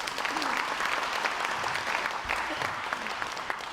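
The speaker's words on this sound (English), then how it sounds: "You can applaud for that." An audience at a school district breakfast event claps in steady, moderately loud applause lasting several seconds, with faint voices murmuring underneath.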